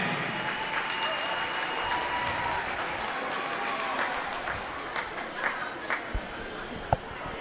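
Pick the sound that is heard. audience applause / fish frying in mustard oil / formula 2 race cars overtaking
audience applause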